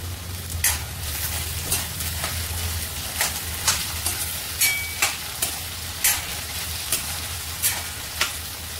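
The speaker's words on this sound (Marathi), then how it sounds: "या बटाट्यांना आपण आता फ्राय करून घेऊया।" Long-cut potato strips fry in hot oil with a steady close sizzle, broken by sharp crackles and pops at irregular intervals.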